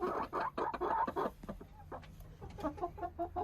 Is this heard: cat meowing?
no